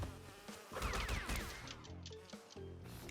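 Bees buzzing in the video game Crash Bandicoot 2, a short burst of busy insect drone mixed with sliding game effects and clattering hits, fairly faint and brief.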